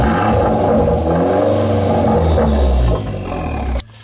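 Corsa VXR engine fitted with a Direnza exhaust revving hard and steadily for about four seconds, loud and close, then cutting off sharply.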